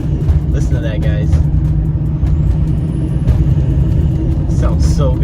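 Steady low engine rumble of a Duramax diesel truck running with an RDS turbo, muffler and DPF, a rising turbo whine under it and voices talking intermittently.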